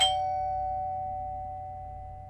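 A single doorbell chime in a quiet room, a clear bright ding that rings out and slowly fades over a couple of seconds against low background hum.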